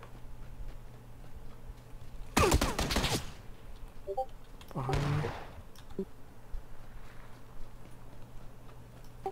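Video game gunfire cracks out in a sharp, close burst of rapid shots, then a second, shorter volley a couple of seconds later, over low background hum and faint voices.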